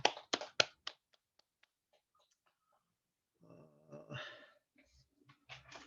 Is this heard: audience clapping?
yes